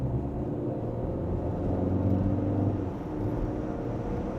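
A Mitsubishi Evo 6 1.5 turbo LPG car engine drones with a low, steady rumble, swelling slightly as it accelerates, heard from inside with no talking.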